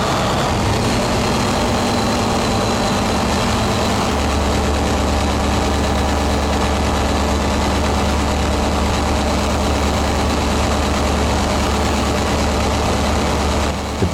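A Caterpillar D399 V16 diesel engine runs steadily, producing a continuous, loud, heavy low rumble with an even mechanical drone and no talking.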